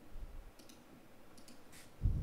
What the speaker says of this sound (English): This is me typing at a harder speed.